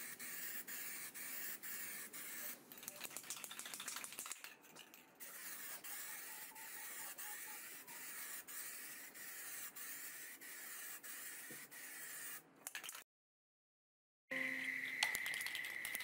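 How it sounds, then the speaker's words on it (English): Spray adhesive hisses onto felt for timber or MDF in a long, continuous steady spray. There are short breaks and one full silent gap, and the sound is faint and close. "That's what you're seeing me spray."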